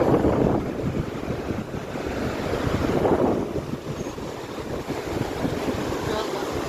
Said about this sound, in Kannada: ಕೆಳಗಡೆ ಅತ್ಯಂತ ಸುಂದರವಾದ, ಅತ್ಯಂತ ಸ್ವಚ್ಛ ನೀರಿನಿಂದ ಕೂಡಿರತಕ್ಕಂತಹ ದೂದ್ ಕೋಸಿ ನದಿ